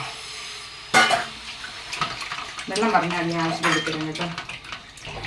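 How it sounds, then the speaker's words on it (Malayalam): Water pours and splashes into a mixing bowl of parotta dough ingredients amid clinks of dishes and utensils, close by, with a voice murmuring briefly. "എന്നിട്ട് ഒരു 1/2 കപ്പ് വെള്ളം കൂടെ ഒഴിക്കുക."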